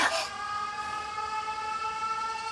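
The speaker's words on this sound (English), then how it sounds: "The sirens." Air raid sirens from the video game 13 Sentinels: Aegis Rim wail as a steady, loud, sustained tone after a brief burst at the start.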